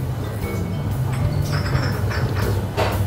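A subway train runs through a station in Hong Kong's Causeway Bay area with a steady, loud rumble and low hum, overlaid by metallic screeches and rattling clicks from the wheels and rails.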